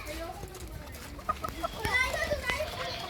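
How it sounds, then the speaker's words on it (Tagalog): Several gamefowl chickens cluck and chatter nearby in short irregular bursts, with faint background voices and outdoor noise. "Papakainin po natin yung mga manok natin."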